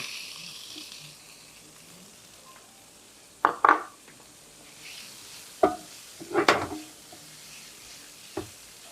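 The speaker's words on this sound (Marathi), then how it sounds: "हे सगळं सारखं करून घ्यायचं हो मिक्स करून घेऊया हं." Spiced jackfruit vegetable being stirred and mixed in a pan, with a few sharp scraping and clattering spoon strokes over a quiet background hiss.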